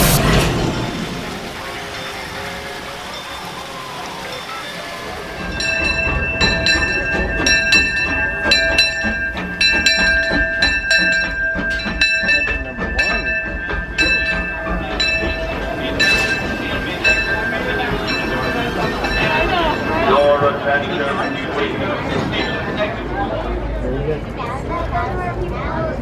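The Disneyland Railroad train rumbling along, steady and close, with people talking over it and a chiming, tonal mechanical ring after a quieter start.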